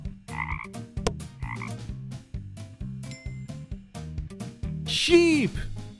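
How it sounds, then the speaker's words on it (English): Frog croaks come in short bursts over a rhythmic music track, with a sharper vocal call rising near the end. "A frog."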